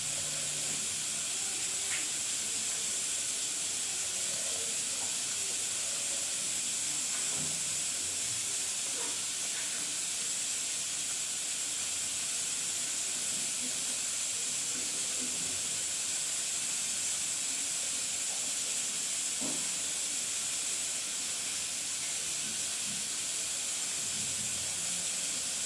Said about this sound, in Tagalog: Nilagay ko sa pressure cooker yung karne para lumambot konti.